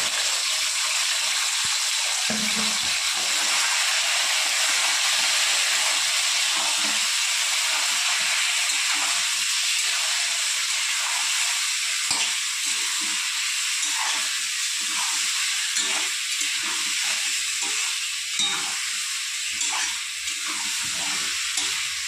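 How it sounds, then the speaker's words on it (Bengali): Chicken pieces fry in hot oil with a steady, loud sizzle and hiss that runs the whole time, broken by faint crackles and stirring, with no voices. "ওই গরম তেলে আমি চিকেনগুলো ভেজে নেব।"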